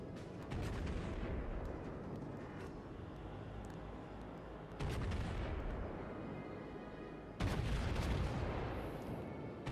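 Naval guns fire armor-piercing shells at the Kaiser in World of Warships, three deep, rumbling salvos a few seconds apart, each a sudden loud boom swelling into a long roaring wash of sound.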